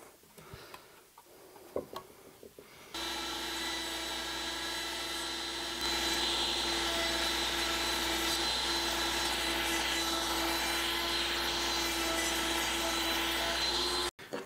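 A router cuts wood for an executive desk build, a loud, steady whine that starts abruptly after a few seconds of faint handling noise and runs unbroken, rising slightly in intensity, before cutting off near the end.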